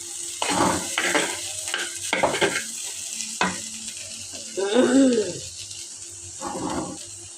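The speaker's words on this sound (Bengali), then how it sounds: "নাড়াচাড়া করা।" Potatoes fry in a pan while being stirred, with scraping strokes and a soft sizzle in short bursts, fairly close and alone without talk.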